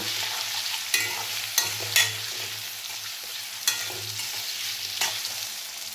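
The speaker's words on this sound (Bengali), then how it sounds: "এবার আমি এর সাথে সামান্য পরিমাণ একটু হলুদ অ্যাড করে নেব খুব ভালোভাবে আলুগুলো ভেজে নেব" Potatoes with turmeric fry in a pan with a close, steady sizzle, broken by several sharp clinks and scrapes of a spoon stirring.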